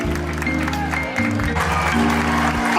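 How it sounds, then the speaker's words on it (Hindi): Applause from an alumni meet audience at a school, steady clapping layered over loud sustained music with low tonal bands throughout. "जोरदार तालियां इनके लिए।"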